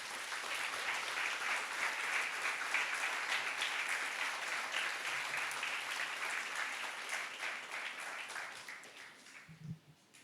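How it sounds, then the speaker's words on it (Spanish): A church congregation applauds during a sermon, dense, even clapping that carries on for several seconds before fading out at the end. "De un aplauso al Señor"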